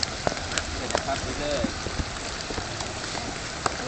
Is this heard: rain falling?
yes